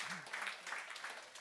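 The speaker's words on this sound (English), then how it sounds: "A little applause for all these excellent leaders that we have here." Audience applause at a technology conference panel, a brief burst of steady, moderately loud clapping from a seated crowd.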